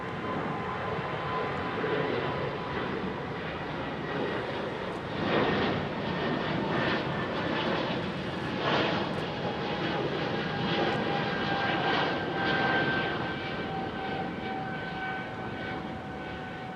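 A British Airways Boeing 777 and other aircraft at London Heathrow airport produce a steady, distant jet engine roar, a continuous rumbling hum with a faint whine persisting throughout without speech.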